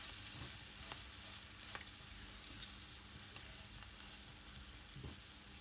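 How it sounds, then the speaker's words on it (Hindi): Spices for a yoghurt and green chili curry fry gently on a very low flame, giving a steady soft sizzle with occasional light stirring taps. "बिल्कुल हल्की आंच पे हमें ये काम करना है, वरना मसाले जल जाएंगे।"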